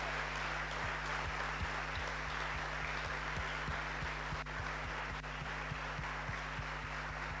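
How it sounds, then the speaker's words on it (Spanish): Congregation clapping during a church service at Casa de Dios in Rosario, Argentina, a soft, diffuse wash of applause laid over a steady low hum with a regular thumping pulse, no voices on top. "Pueden aplaudir."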